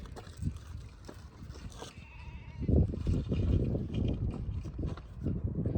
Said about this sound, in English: A lot of sheep, not really appreciating our presence.